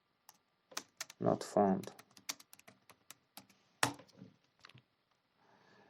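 Quiet typing on a computer keyboard, with scattered clicks and short rapid runs of keystrokes that stop and start, while a voice speaks briefly over the first part.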